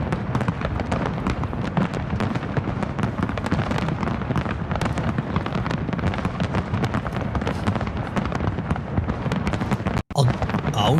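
Live New Year's Eve fireworks crackle and boom in a dense, nonstop barrage of overlapping explosions, loud and close, with a brief dropout near the end of the feed.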